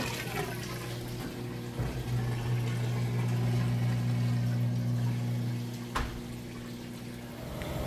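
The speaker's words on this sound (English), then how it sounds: "we're coming out of the wash cycle, draining that water out nice and fast" Whirlpool washing machine draining its wash water, a steady low rushing hum of the drain pump and water flow running throughout, with a couple of brief clunks.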